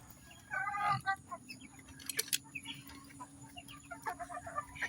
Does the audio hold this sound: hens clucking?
yes